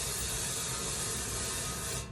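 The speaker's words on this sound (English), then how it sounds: "I'm going to simply put the olive oil spray" Olive oil spray hissing from a can into an air fryer bucket, one steady loud spray of about two seconds that stops abruptly.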